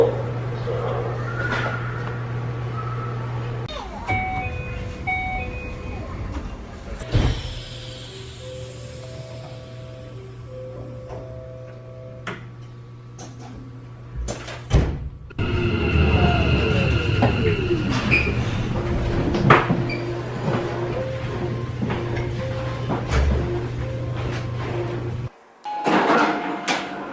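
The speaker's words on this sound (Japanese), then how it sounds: "ドアを閉めます。" Door chime on a Keikyu New 1000 series train, a melodic sequence of tones over a steady low electrical hum, followed by the thud and hiss of the doors closing, then the chime repeating near the end.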